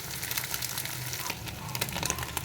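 An egg fries in hot oil in a kadai, browning with a steady close crackling sizzle and scattered pops that run throughout without pause.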